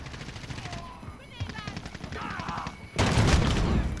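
Gunfire from a Modern Warfare match using an MK2 Carbine: rapid, dense shots crackle in bursts under game noise and faint talk, turning much louder and fuller in the last second.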